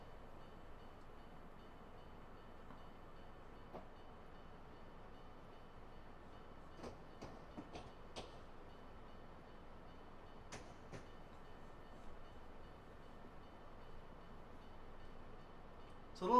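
Train running on Cajon Pass in Train Simulator, a quiet steady rolling rumble with a few faint clicks of wheels over rail joints, distant and low, with no talking.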